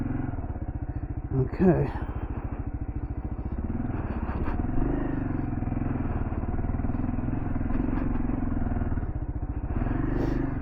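A KLR650 dual-sport motorcycle on Shinko 244 and Shinko 700 tires climbs an off-road hill, its single-cylinder engine thumping steadily and loud up close, with brief clatter near the start and a short spoken word.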